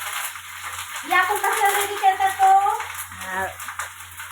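Freshly washed curry leaves dropped into hot oil in a home kitchen for a sweet-sour dal, a near, crackling splutter and sizzle that flares up and settles, with voices talking over it.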